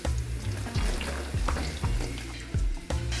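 Sliced onions hitting hot oil in a pan for hotel-style egg fried rice, giving a steady loud sizzle with a few clanks of a utensil stirring, close and without talk.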